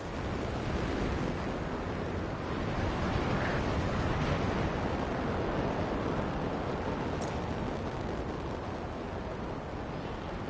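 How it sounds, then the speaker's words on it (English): A waterfall in the video game Anthem roars as a dense, constant rush of broadband noise, loud and unbroken throughout, with no voices over it. "waterfall ahead if you want to cool your suit"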